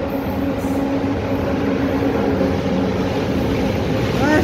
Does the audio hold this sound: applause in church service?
no